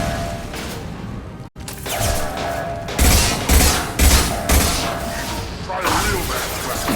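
Gunfire in the video game Mass Effect 2: a dense, loud stream of combat shots and impacts with bursts of heavier thuds, continuous through the scene, with voices talking over the fighting.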